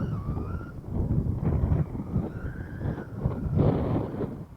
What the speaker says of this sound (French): Oh, le vent qu'il y a.